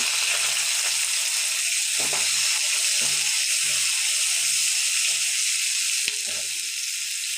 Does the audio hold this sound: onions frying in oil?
yes